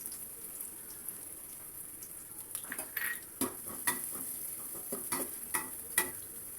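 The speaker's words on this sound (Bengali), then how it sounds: "এখানে কিছুটা সয়াবিন তেল ঢেলে দিলাম। তেলটা গরম হয়ে গেছে। এখানে 1 কাপ পরিমাণে পেঁয়াজ কুচি দিয়ে দিলাম।" A cup of chopped onions fries in hot soybean oil for beef haleem, hissing quietly while a metal spoon knocks and scrapes the pot in a run of clinks that grows busier midway.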